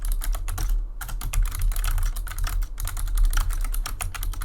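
Rapid, steady clicking of keys on a computer keyboard, close up, with brief pauses between runs of typing over a low hum.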